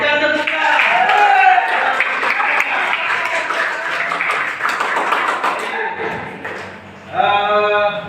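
A classroom audience claps briefly, a dense burst of clapping overlapping a voice, which fades, then a voice speaks again at the end.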